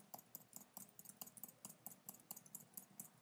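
Rapid, steady keystrokes on a computer keyboard while text is entered in a Linux text editor, crisp clicks close by in a quiet room with no talking.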